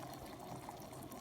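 Water boiling inside an opened electric kettle holding 1.7 litres, giving a soft, steady bubbling rumble that stays quiet and even throughout, with no voices.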